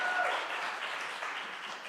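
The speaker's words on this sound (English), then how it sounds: "Let's have a round of applause." Audience at a talent show applauds in a steady, dense burst of clapping that holds at an even level for about two seconds, with no voices over it.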